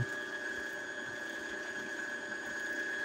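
A Brother sewing machine runs continuously with its pedal pressed to the floor while winding a bobbin, giving a steady high-pitched mechanical whine over a fine ticking rattle, close and even throughout, with no talk.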